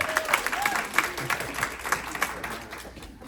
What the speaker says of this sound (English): Big hand for Julian.